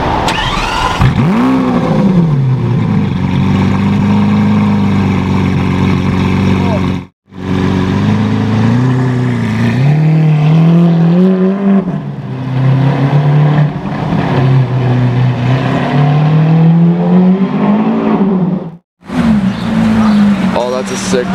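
A GT3 sports car engine revs loud and close in long, rising and falling bursts, with a deep exhaust drone and two short cuts to silence, while people talk over it.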